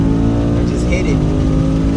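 Ford Mustang GT S650 in drag mode, its V8 engine revving hard in a downshifted gear as it accelerates, a loud, steady engine roar that rises in pitch, with someone talking over it.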